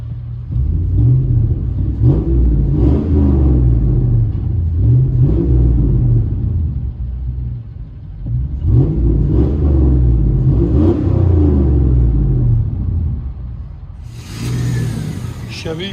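A 1999 Chevy Silverado Z/71 with a 5.3L V8 and true dual straight-pipe exhaust revs loudly in two long, throaty bursts, with a sharper hiss near the end; engine rumble dominates throughout, close and continuous.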